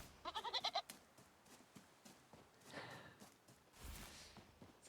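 Bleating goat in a video game: a quick run of about six loud, nasal bleats in the first second, then quieter shuffling and soft background game sounds.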